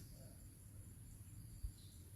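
Faint, high, steady cricket chirping hums in the background of a quiet outdoor scene, with a soft low rumble beneath.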